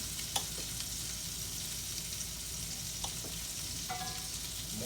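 Butter sizzles in a hot pan ahead of frying thin flounder fillets, a steady crackling hiss with a few brief clinks and scrapes over it, close and constant with no talking.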